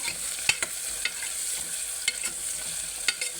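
Onions and green chillies frying in a pan for Telangana-style mutton curry, a constant hiss of sizzling broken by sharp clacks of a spatula stirring at an uneven pace.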